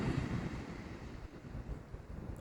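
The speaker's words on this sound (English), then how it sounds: "listen to the waves" Ocean waves wash onto a beach in a steady, continuous rumble of surf, with some wind noise on the microphone and no talk.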